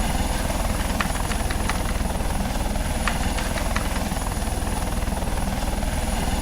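A constant, loud, rapid rotor chop of a Eurocopter Tiger helicopter with engine whine in the game Second Life, steady throughout with a few faint clicks on top.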